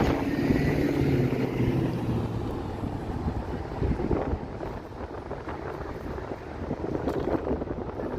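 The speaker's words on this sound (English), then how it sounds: "Geez, walking this way, it's suddenly quite windy." Strong, gusty wind buffets a microphone on a walk through North York Centre in Toronto. The rushing noise runs steadily and close throughout, with no speech.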